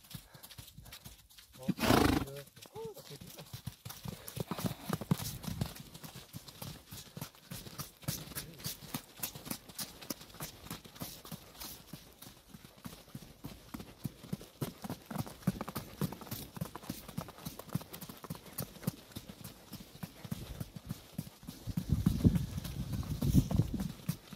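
Rhythmic clip-clop of a Kazakh horse's hooves trotting steadily on hard ground, fairly close, with a brief whinny near the start and louder hoofbeats toward the end.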